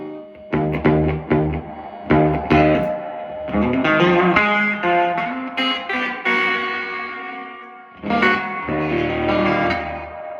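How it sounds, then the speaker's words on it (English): An electric guitar is played through a vintage Music Man amp with its reverb on, giving struck chords and picked notes a washy, ringing tail; the notes sustain, pause briefly near the end, then resume, loud and close. "Reverb's working, you can hear it."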